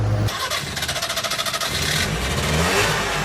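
An engine revs up and down in quick pulses, its exhaust popping and crackling, then settles into a steady loud roar.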